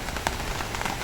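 Rain falls steadily on a farm field in bad weather, a dense wash of drops hissing across the ground with a few louder close splashes, no voices.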